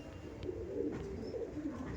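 Andhra pigeons coo in a low, steady murmur close by, the soft purring notes running continuously through the whole stretch without pause.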